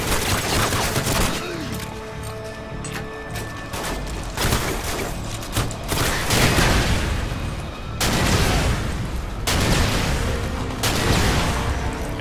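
Rapid gunfire from an infinite-ammo cheat in the PC shooter New Age Soldier, with dense bursts and booming shots running through the whole stretch, loud and close, with no talking.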